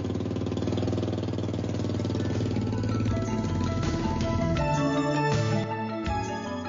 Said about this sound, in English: With its throaty-sounding rear-mounted engine, it's designed to set records.